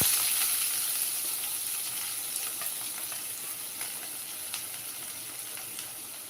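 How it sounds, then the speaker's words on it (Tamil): Chopped onion frying in hot oil for a Tamil ivy gourd stir-fry gives a steady, close sizzle with faint crackles and pops, fading only slightly over time. "வெங்காயம் நறுக்குனது போடுறேன்"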